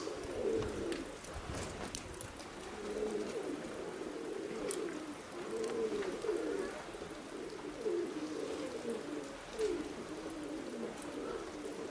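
Roller pigeons coo softly and repeatedly in low, rolling phrases, a steady murmuring chorus over faint outdoor background noise.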